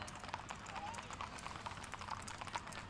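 Horse steppers pulling a small surrey in a town's 250th anniversary parade give rapid, fairly faint hoof clip-clops on pavement among crowd noise.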